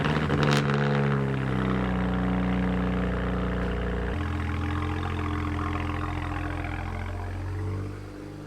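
A car on a test drive after an epoxy fix to a crooked license plate mount, its engine humming steadily with a low drone throughout, a gear or speed shift partway through, and no talking.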